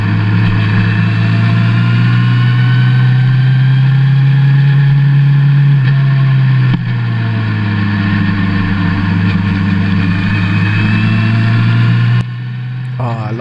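Suzuki Bandit 1200 motorcycle engine running steadily while riding, a loud continuous drone with a strong low hum and a slight dip in pitch partway through, wind noise layered over it.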